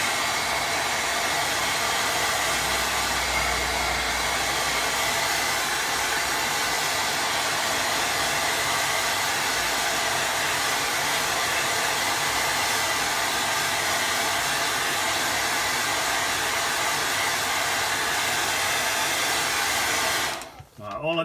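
A hair dryer blows steadily on a watercolour painting of a calm lake, a loud continuous broadband whoosh that runs without a break before cutting off abruptly near the end.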